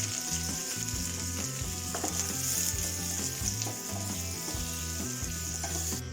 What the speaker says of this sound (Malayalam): അണ്ടിപ്പരിപ്പ് പച്ചമുളക് ഒക്കെ ഇട്ട് കൊടുത്തിട്ട് നന്നായിട്ടൊന്ന് വഴറ്റിയെടുക്കാം